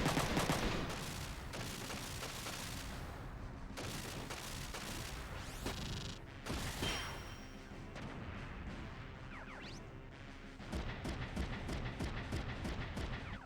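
Dense bursts of gunfire and heavy booms from a mech battle in Front Mission 3, with rapid shots and explosions layered throughout, a crisp repeating volley of regular shots near the end.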